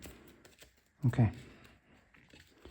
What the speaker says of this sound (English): Okay, let's shuffle this one.